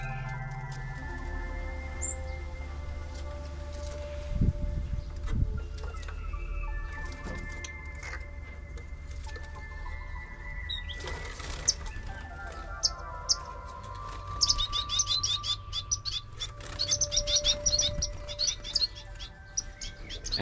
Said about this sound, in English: we had a small flock consisting of chestnut-breasted mannikins, three colored parrot finches, society finches, and a pair of African silverbills